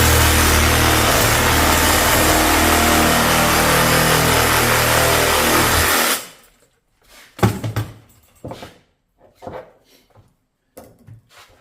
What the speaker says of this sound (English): And then I'm going to take the Sawzall